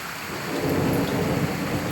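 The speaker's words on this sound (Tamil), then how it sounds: "இங்கே மழை பெய்யுது" Rain falls steadily while a deep thunder rumble swells and rolls underneath, loud and continuous, with no one speaking.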